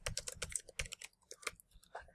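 Text typed on a computer keyboard into a PowerPoint slide, a quick run of crisp close key clicks with short pauses between clusters, no talking.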